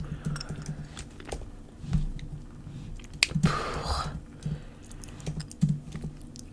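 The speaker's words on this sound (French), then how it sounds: "on va taper histoire courte" Quiet, close fingers tap a computer keyboard in irregular clusters of soft clicks, with a louder rustling burst midway and light mouth sounds in a hushed setting.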